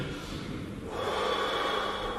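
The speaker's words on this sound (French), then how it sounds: "j'appelle ça la respiration, ah, vous avez rigolé, hein, fou de ma gueule, la respiration de docteur, comme chez le docteur" A man takes deep, forceful breaths, as at a doctor's stethoscope check: one sharp noisy inhale, then a longer, louder exhale through the mouth, close to the microphone and with no talking.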